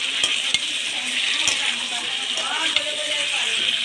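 Pointed gourd being stir-fried with charmagaj paste in a pan, a steady sizzle with a few clinks of a utensil against the pan, while a voice talks over the cooking.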